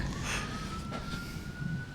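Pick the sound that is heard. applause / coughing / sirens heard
sirens heard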